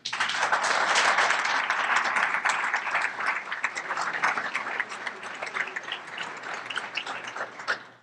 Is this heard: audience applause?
yes